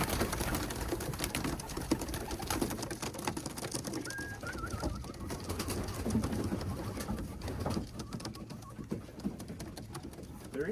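Pigeons coo in a loft amid a dense, continuous clutter of shuffling and rustling, with the low calls repeating faintly throughout and a voice briefly present.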